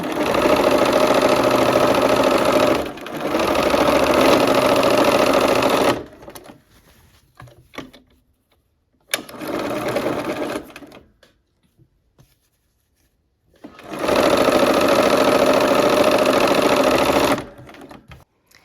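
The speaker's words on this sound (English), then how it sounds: "let's go ahead and sew." A sewing machine stitches quilt pieces in three loud bursts of rapid even whirring, each a few seconds long, separated by quiet gaps with faint handling noises.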